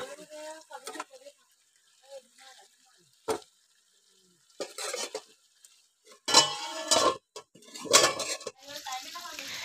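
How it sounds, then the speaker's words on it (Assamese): Meat being stir-fried in a pan, with intermittent bursts of sizzling and the clatter of a utensil against the pan, louder toward the end, alongside scattered kitchen sounds. "এনেদৰে মানে মাংসটো ভাজি ভাজি সিজাই ল'ম।"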